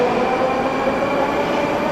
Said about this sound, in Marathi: ही बघा ही आली आपली मेट्रो